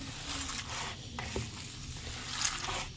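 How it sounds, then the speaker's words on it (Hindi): A small test piece of beef chapli kabab mixture fries in a pan with a continuous soft sizzle and crackle, close and fairly quiet, with a faint scrape; no speech. "अब थोड़ा सा इसको ना फ्राई करके देख लें इसका नमक"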